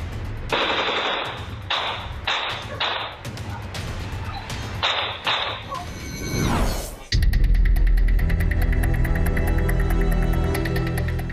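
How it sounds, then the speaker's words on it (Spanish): Rapid bursts of automatic gunfire crackle in sharp clusters, followed by a sustained, dense stretch of continuous loud firing. "Ráfagas de balas, lluvias de disparos"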